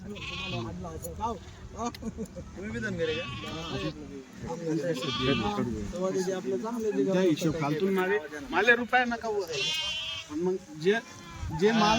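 Nizampuri sheep bleat repeatedly in wavering cries, several animals close by, mixed in with people talking throughout.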